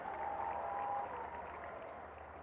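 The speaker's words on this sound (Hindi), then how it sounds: "आपके यहां एक जोरदार ताली हमारे माननीय विधायक जी के लिए" Crowd applause for a sitting MLA at a Gorakhpur public event, a steady dense wash of clapping that holds for the whole stretch with no voices over it.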